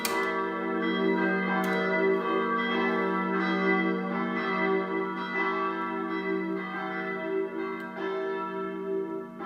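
Electronic church bell ringer plays church bells in a continuous pealing pattern, the overlapping tones sustained and reverberant, moderately loud with no voices.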